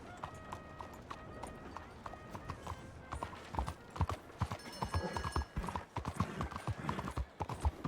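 Horse hooves in Red Dead Redemption 2, a clip-clop of hoofbeats under game music and ambient sounds, with a brief whinny, fairly close and moderately loud.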